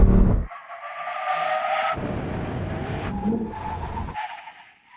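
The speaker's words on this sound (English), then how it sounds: "Brake test from 100 miles an hour. When we reach the line, full emergency stop." Lamborghini Sterrato and Porsche 911 Dakar braking hard from 100 mph in a full emergency stop, a short loud burst of engine roar followed by tire noise and skidding that fades out.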